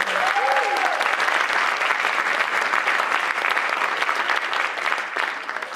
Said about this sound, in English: Let's also give all of our award recipients and all of our student athletes a big round of applause